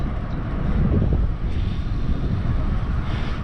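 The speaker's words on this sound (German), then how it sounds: "Der Wind ist einigermaßen gut." Wind buffeting a microphone during a 600 km non-stop brevet bike ride toward Legoland Billund, a steady, close, low roaring rush with no voices, filling the whole short stretch.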